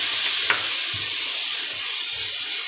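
Beer-battered red snapper fries in a pan, a loud steady sizzle and hiss with a few soft stirring knocks, heard close and alone.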